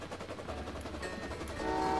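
Trains running at speed in the video game Train Valley 2, with a rapid rhythmic clatter of wheels and a sustained horn-like tone that rises near the end, moderately loud and without talk.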